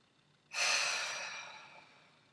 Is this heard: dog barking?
no